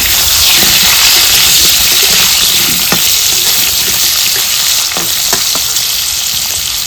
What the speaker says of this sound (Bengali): কিভাবে আলুগুলো লাল লাল করে ভেজে নেব।